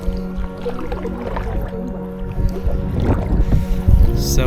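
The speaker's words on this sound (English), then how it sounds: "Paddling around the island was incredibly peaceful and relaxing." Kayak paddling on the calm water of Ha Long Bay, Vietnam, with soft continuous splashing and dripping strokes close by, set against a low wash of wind noise on the microphone.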